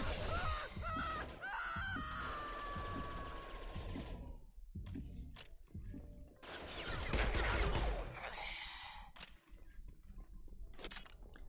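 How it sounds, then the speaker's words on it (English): Gunfire in the video game Mass Effect 2, rapid bursts of weapon fire mixed with impacts and glass-like crashes, loud and dense, broken by short gaps, with game sound effects throughout. "And nobody noticed the gunfire."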